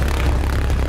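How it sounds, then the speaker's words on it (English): The pulsejet engine of a V1 flying bomb from Battlefield V, a loud, steady buzzing drone held close for a brief moment with no break. "developers used the opportunity to record the engine for Battlefield 5, creating the authentic sound you hear in-game."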